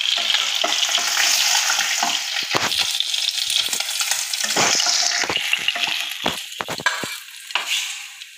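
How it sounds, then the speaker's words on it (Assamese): Snakehead (shol) fish pieces, coated in salt and turmeric, crackle in hot oil in a kadai, with a steady sizzle punctuated by frequent clattering knocks as they are stirred and turned, easing off toward the end. "গোটেইখিনি এনেকৈয়ে ভাজি ল'ম"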